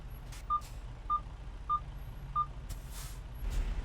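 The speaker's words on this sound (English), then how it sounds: "that beeping that you're hearing is the sensors on this truck." A truck's sensor beeps at a steady, even pace, four short tones about half a second apart, in American Truck Simulator over a low engine hum.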